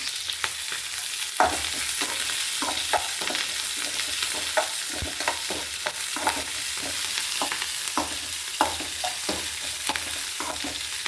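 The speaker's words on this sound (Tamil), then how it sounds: "இப்போ வெங்காயம், மிளகா, கருவேப்பிலை போட்டுக்கலாம். வதக்கிக்கலாம்" Onion, chilli and curry leaves sauté in a pan, with a continuous sizzle and repeated sharp scrapes and taps of stirring, heard close with no talk.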